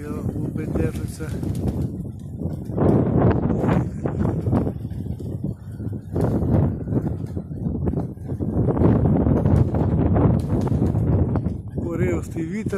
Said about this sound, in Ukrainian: Поривстий вітер.